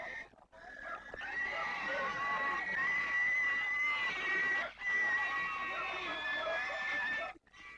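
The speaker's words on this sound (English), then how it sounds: "Pigs are brought to be blessed, rather unwillingly." Pigs squealing loudly and unwillingly as they are brought for ritual sacrifice at an Apatani tribal festival in Ziro, Arunachal Pradesh, with long, shrill, continuous cries broken by a few brief pauses.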